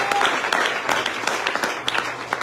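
Congregation applauding during a church service, a dense, steady wash of many hands clapping close by with brief sharper accents throughout.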